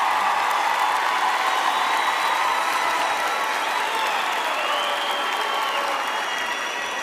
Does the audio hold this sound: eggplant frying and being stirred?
no